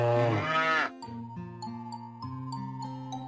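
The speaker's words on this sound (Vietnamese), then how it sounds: "Bò sữa đang chuẩn bị làm sữa." A cartoon dairy cow on a farm gives one long, loud moo, and tinkling chime music follows, with no talk.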